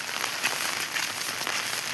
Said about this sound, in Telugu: నాకు తెలిసి ఇంకో 2 రోజులు పడేటట్టే ఉంది వాన అయితే. ఇది తుఫాన్ వల్ల